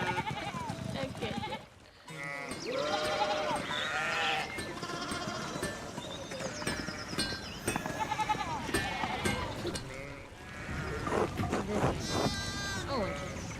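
Sheep in the video game Pentiment bleat repeatedly in overlapping, wavering calls alongside game music and sounds, with a person talking over them.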